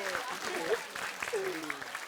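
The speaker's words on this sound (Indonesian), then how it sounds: "Tepuk tangan buat kalian semua" Studio audience of a comedy game show clapping, fairly faint and scattered, underneath people talking and calling out over the top.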